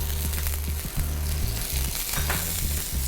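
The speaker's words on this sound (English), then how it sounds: "You can hear that sizzle." Shrimp sizzle and crackle loudly in a hot pan, a continuous frying hiss with some low rhythmic clatter underneath.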